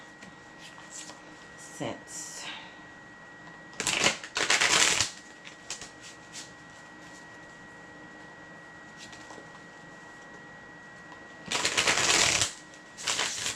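Tarot cards are shuffled in short rustling bursts, with two quick riffles early on and a longer flurry near the end, close by in a quiet room while someone speaks softly between them.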